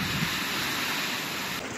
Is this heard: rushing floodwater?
yes